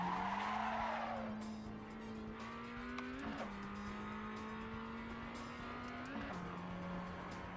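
Race car in the Assetto Corsa video game losing rear grip, its engine holding a steady drone while tires skid and squeal loudly through the corner, with brief pitch jumps as it slides.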